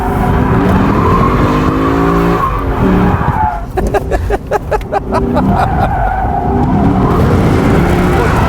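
A Lexus LC 500 Convertible slides through a skid with loud, close tire squeal under a rising and falling engine roar, while people talk inside the car throughout.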